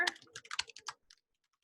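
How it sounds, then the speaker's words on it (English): Search words being typed on a computer keyboard, a quick run of close, crisp key clicks lasting about a second and then stopping, with no voices. "So I'm just going to type those words in here."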